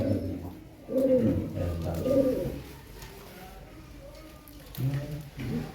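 Low, throaty pigeon coos repeat in short bursts close by, with quieter background noise in the pauses.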